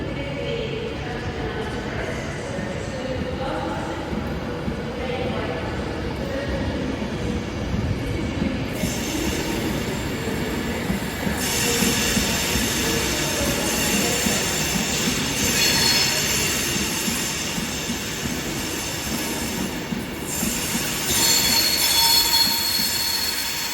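A train pulls out of Carlisle bound for London Euston via Birmingham New Street, its wheels squealing in long, high, wavering screeches over a low rolling rumble, close by and sustained.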